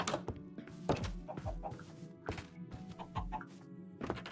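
Chickens cluck in the Minecraft game: short clucks repeating at irregular intervals, fairly close and moderately quiet, alongside soft thunks.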